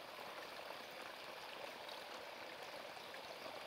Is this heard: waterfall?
yes